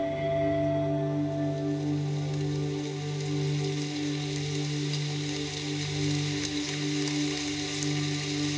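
Steady rain falling in a South Sea rainforest, an even, dense patter that continues unbroken throughout alongside a low, sustained humming tone.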